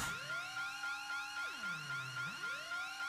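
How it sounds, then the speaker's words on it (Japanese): Alarm siren in the PS2 video game RahXephon: Soukyū Gensōkyoku, a loud electronic wail that sweeps up and down in repeating cycles over about three seconds, alone with no speech. "これは警報か？"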